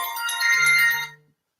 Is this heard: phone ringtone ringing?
yes